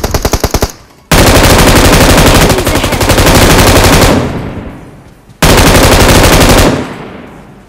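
Automatic gunfire in the PUBG Mobile battle royale game: two long, loud rapid-fire bursts close up, the first stopping briefly before resuming and the second starting after a short pause, with no voices.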